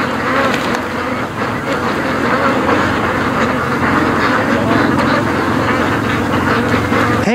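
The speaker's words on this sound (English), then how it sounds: "look at all these ducks. Right at the mouth of the creek." Ducks gather at the mouth of a creek on a lake, their quacking blended into a dense, continuous outdoor din that stays loud throughout without speech.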